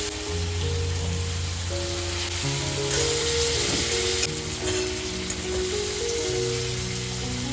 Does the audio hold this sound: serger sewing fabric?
no